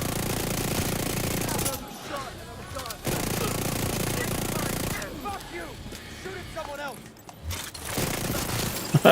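Heavy gunner turret firing in The Division 2, dense sustained bursts of rapid gunfire in long rattling stretches with brief gaps, while voices talk over it.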